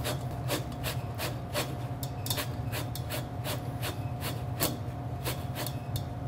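Fresh nutmeg and lemon zest being grated, producing a steady run of rhythmic rasping strokes, close and fairly loud over a constant low hum, with no talking.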